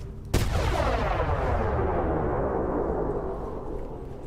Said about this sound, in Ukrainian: Я що, нахуй, підірвав бак з паливом зі зоряних війн?